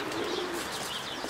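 Pigeons coo softly in a continuous low, throaty murmur, about a hundred birds in a loft close by, with faint chirps and rustling mixed in.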